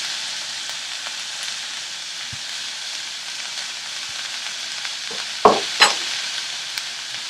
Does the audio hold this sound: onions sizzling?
yes